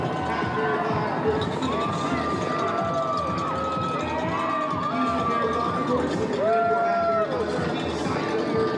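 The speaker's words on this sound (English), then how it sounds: "And you can hear the music is pumping out here. People are cheering." Spectators line West Gray at mile 4 of the 2019 Chevron Houston Marathon, a continuous crowd roar of shouts and cheers with whoops rising and falling as runners pass.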